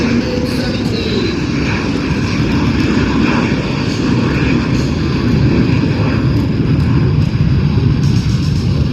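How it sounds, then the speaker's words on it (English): A Russian MiG-17 jet on its takeoff roll at an airshow produces a loud, sustained engine roar with rumbling low end, heard fairly close and continuous throughout. "On the takeoff roll, ladies and gentlemen, Jason Soames and the Russian MiG-17."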